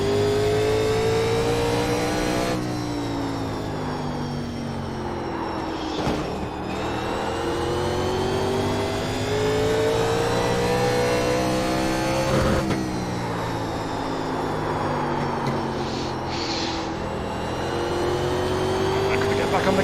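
Race car engine in the iRacing sim, a 1987 NASCAR Legends car at North Wilkesboro, drones steadily throughout, its pitch sweeping up under acceleration and dropping on lift-offs and downshifts, with a voice talking over it.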